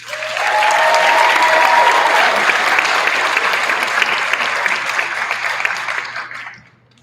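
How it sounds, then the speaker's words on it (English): Sustained applause from a large crowd at a graduate hooding ceremony, loud and steady for several seconds, then fading out. "Let's hear a round of applause."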